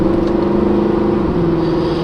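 A 2009 Mercedes C63 AMG with the P30 pack holds a steady, close engine drone under light throttle, its tone rising only slightly and no one talking over it.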